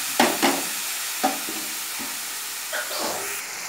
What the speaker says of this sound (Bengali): আলু আর বেগুনটা হালকা একটু ভেজে নিব মশলার মধ্যেই।